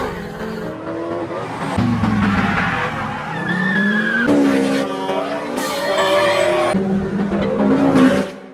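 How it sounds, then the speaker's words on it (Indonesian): A car drives hard in a film scene, with tyres squealing and skidding in several rising and falling bursts and the engine revving loudly throughout for several seconds, with no speech. "dia pun memperlihatkan kehebatannya mengendarai mobil di hadapan si Merryman."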